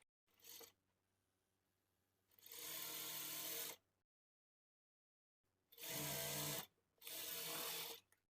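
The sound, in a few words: sewing machine stitching a blouse shape belt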